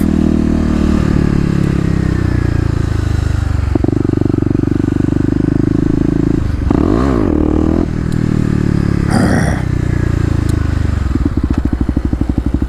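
Kawasaki KLX250 dirt bike engine revving loudly up close during a wheelie attempt, with sustained throttle, a couple of sharp rev surges and clutch-release changes in pitch, no talking.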